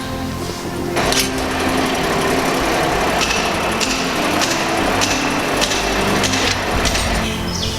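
An MT6300 noodle making machine runs steadily up close, a loud continuous mechanical whir with sharper rhythmic clicks and knocks repeating about every second throughout.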